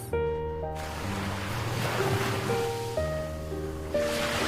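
Ocean waves surging and wind rushing steadily, heard under sustained musical tones, with no speech.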